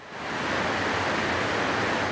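The Brisbane River in flood rushes past the city's office towers, a steady, loud roar of churning water that holds unbroken with no voices.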